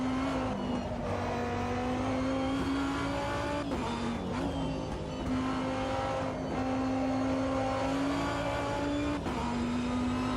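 A race car engine in a racing simulator game drones loud and steady, its pitch rising through each gear and dropping at brief shifts, with a few rougher gaps and occasional tyre noise.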